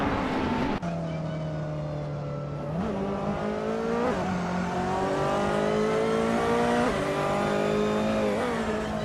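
Race cars, including a 2018 Ferrari 488 GTE, accelerate off the start line, engines rising in pitch through several gear changes, loud and close without talk.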